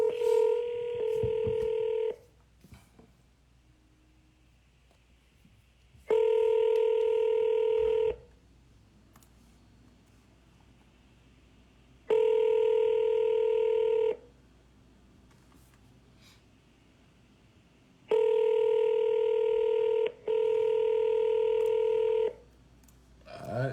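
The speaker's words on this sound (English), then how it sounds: "Let's call him real quick." A phone call rings out unanswered, with four long, steady ringback tones spaced evenly by silent gaps and a brief break inside the last one, loud and clear with no talking.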